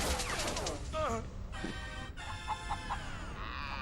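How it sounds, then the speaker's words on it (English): Chicken clucks and squawks over game sound effects in the racing video game Crash Tag Team Racing, with a few short electronic tones and bursts mixed in. "Oh, chickens are a thing in this game as well."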